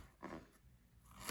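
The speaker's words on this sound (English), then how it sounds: "And then you're going to dice it really small." A knife dices vegetables finely on a cutting board in a few quick, faint, crisp chops, close by and separated by short gaps.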